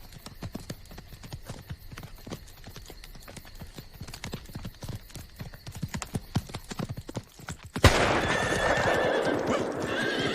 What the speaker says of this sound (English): Hector, get the horses.